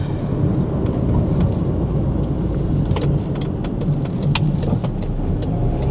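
MG3 1.5L small hatchback under hard acceleration, a dense, steady drone of transmission and road noise heard from inside the cabin, with faint ticks and rattles scattered over it.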